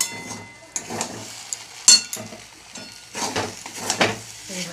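Semolina being stirred in a frying pan with ghee, scraping spoon strokes against the pan with soft sizzling and clinks in an uneven rhythm, close by.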